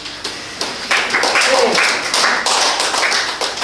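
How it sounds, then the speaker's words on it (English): Clapping from the audience at a meetup for IT entrepreneurs. Dense, moderately loud hand claps run steadily through the whole stretch with no talking over them. "Let's give them a round of applause."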